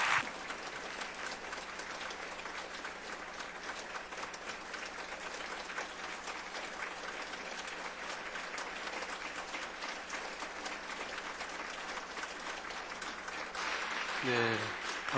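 A church congregation gives a long, steady round of applause as their departing pastor comes forward, dense, even clapping sustained throughout and rising slightly before a voice cuts in at the end.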